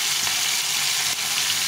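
Live fish fry in a pan in a home kitchen, a steady close sizzle with a faint stir or two and no talking.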